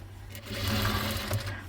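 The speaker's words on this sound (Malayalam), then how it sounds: "ഇതേ രീതിയിൽ തന്നെ ഫുള്ളായിട്ട് സ്റ്റിച്ച് ചെയ്ത് അങ്ങോട്ട് പോവുക." A sewing machine runs steadily while stitching lace along the edge of a designer bedsheet, its motor hum loud, close and continuous with a slight rise and fall in speed.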